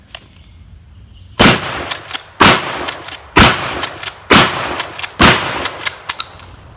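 A Mossberg Shockwave shotgun fires five loud, close shots at an outdoor range, spaced about a second apart, each blast echoing with a short rattling tail.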